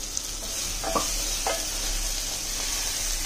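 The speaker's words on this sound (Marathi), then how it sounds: "तो त्याच्यात दोडका चांगला आपण परतून घ्यायचा आहे" Ridge gourd pieces stir-frying in roasted masala and oil, a soft continuous sizzle with a few brief scraping stirs of a spatula against the pan, fairly quiet and without talk.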